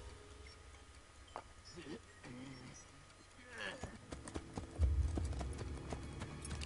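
Rhythmic hoofbeats of a galloping horse in Assassin's Creed Brotherhood over a steady game ambience, with a few brief clattering sounds and a louder burst near the end.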